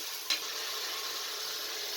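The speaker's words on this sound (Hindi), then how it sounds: "मिनट तक इसे अच्छे तरीके से ऑयल के अंदर फ्राई कर लेना है कि इसका जो कलर है वो चेंज हो जाए" Beef fries in oil in a pot for a Pakistani shaljam gosht curry, giving a steady close sizzle with one brief stir or crackle near the start.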